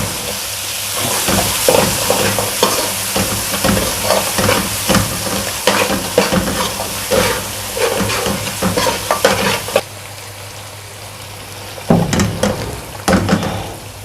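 Aloo gosht being stir-fried in a pot with green chillies and fresh green coriander, a steady loud sizzle with repeated scraping stirs that eases to a quieter hiss before a few more stirs near the end.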